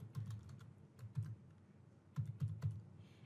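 A password is typed on a computer keyboard in close, crisp bursts of quick key clicks separated by short pauses, with no talking.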